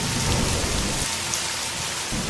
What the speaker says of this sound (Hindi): मोहन, राधिका और उनका बच्चा तीनों बारिश में चल पड़ते हैं।